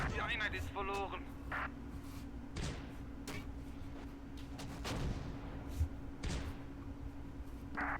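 Artillery blasts and gunfire from the WWII tactical game Close Combat, set around Caen, a handful of sharp thuds and bangs spread over a steady low battlefield rumble and hum.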